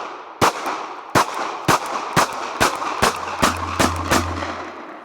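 Sharp, loud pistol shots from a Springfield Hellcat at a target, eight reports in an uneven rhythm, close and ringing, with a low hum under the later ones.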